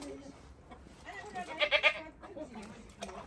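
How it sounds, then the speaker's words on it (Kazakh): A goat gives a single short bleat among sheep in a farm enclosure, partly masked by low background sound. "Ешкі."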